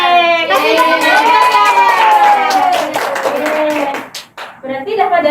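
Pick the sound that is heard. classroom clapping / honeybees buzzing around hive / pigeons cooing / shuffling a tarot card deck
classroom clapping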